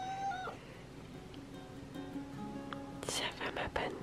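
A cat meows once, a short rising call near the start, in a quiet home as a woman greets it softly with a French-speaking voice, followed later by brief rustling and handling noises.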